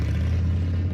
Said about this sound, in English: This is the sound of a popular American motorcycle.